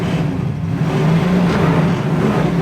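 A 1968 Camaro pulls away from a dead stop, its engine a loud, steady droning roar heard from inside the car that builds slightly without sharp revs; no talking.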